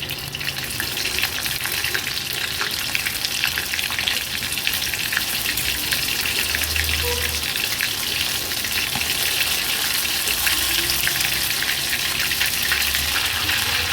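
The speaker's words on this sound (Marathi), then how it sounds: "मीडियम फ्लेमवरच ही कालवं आपल्याला फ्राय करून घ्यायची आहे" Kalva oysters frying in oil over a medium gas flame, cooked Agri Koli style, give a steady, continuous close-up sizzle with no talking.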